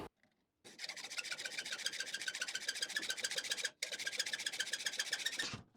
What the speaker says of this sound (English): So a bit of old rebar I'll do there. To try out my new hacksaw.